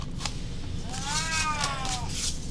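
A cat gives a single drawn-out, rising then falling meow lasting about a second, clear and fairly close over a steady background hum.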